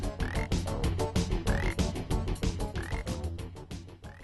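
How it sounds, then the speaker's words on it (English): A frog croaking in The Adventures of Willy Beamish video game, a steady run of loud, rhythmic croaks repeating every fraction of a second over a dense game soundtrack, with no talk. "Never in all my born days have I ever seen a frog jump like that."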